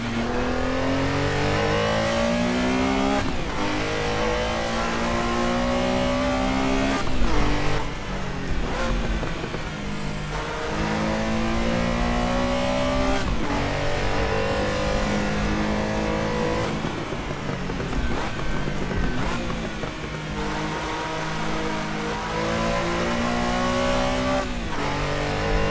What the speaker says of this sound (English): just listen to that engine. Sounds like a Volkswagen Beetle's engine